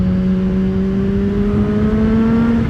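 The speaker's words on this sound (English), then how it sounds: "you can tell that the supercharger wants to activate and give you a kick up the backside" Supercharged Kawasaki ZH2 naked motorcycle pulling hard under acceleration, a steady loud engine drone with rising whine, close and continuous with no voices.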